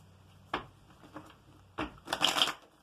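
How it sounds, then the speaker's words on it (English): Tarot card shuffling: a few quick papery riffles and taps, ending in a brief rapid flutter of cards, close by with no talking. "3 shuffles and a cut."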